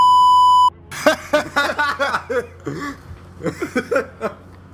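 A pure, steady censorship beep tone sounds loud and alone for a moment to cover a swear word. It stops sharply, and then people laugh and chatter close by.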